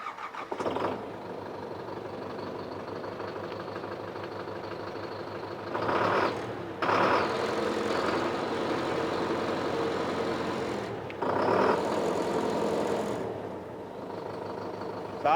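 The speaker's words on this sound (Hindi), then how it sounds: "CRDI इंजन का साउंड कैसा है, चलिए आपको मैं वो भी सुनाता हूँ।" A Sonalika Tiger 55 tractor with a CRDI diesel engine runs close by with a steady, rumbling idle, rising in revs a few times in short bursts before settling back to idle.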